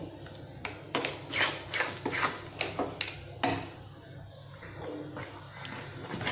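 Sugar melting in a pan for chocolate barfi is stirred with a spoon, giving a run of close scraping and clinking strokes for a few seconds before the stirring turns quieter.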